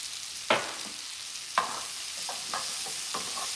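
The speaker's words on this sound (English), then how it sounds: "Just stir that around a little bit more." Garlic and smoked paprika get stirred in a frying pan with soft scraping strokes over a quiet sizzle, two sharper scrapes standing out amid lighter stirring.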